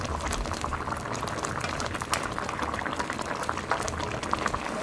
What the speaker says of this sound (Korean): 강불로 국물이 조금 자작자작 할 때까지 졸여줄게요